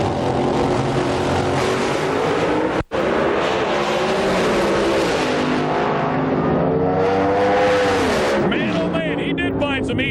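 Top fuel dragsters at the 2005 IHRA Rocky Mountain Nationals, a loud sustained engine roar rising and sweeping in pitch as the cars run, with an announcer talking over it.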